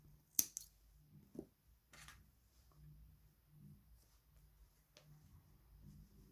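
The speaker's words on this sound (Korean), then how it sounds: "실은 잘라 주시고" Scissors snip crochet yarn with a few quiet, sharp clicks in a hushed room, one crisp cut near the start followed by softer snips and faint handling noise.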